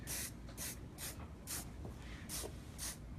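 Control Addict 28 hairspray hissing in six short, evenly spaced bursts, close and fairly quiet, during a haircut with no talking.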